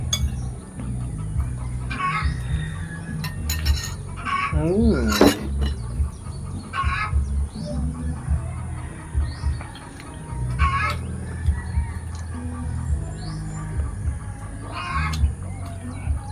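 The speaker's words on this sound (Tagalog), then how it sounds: "Marinig mo mga ano ng manok, saka mga ng ibon." Chickens cluck and a rooster calls repeatedly nearby in the morning, with scattered bird chirps and a steady background hum throughout.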